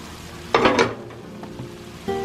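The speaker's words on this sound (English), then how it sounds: "Now I'm gonna add the eggs to it" Eggs poured into hot ginger fried rice in a pan, a sudden loud burst of sizzling that settles into a softer steady fry with stirring.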